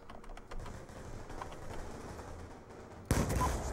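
Gunfire in Black Ops 2 multiplayer: faint distant shots pop over a low ambient rumble, then one loud close gunshot bursts near the end and rings out.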